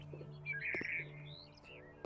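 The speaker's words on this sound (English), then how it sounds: "I put in some birds over here." Birds chirping in the video game House Flipper, several bright, short tweets and trills in a quiet garden with a faint steady hum underneath.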